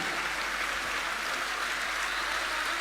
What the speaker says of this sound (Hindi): तालियां लगातार बजनी चाहिए, बजती रहना चाहिए तालियां